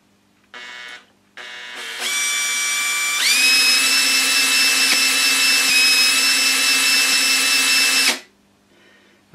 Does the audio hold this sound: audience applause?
no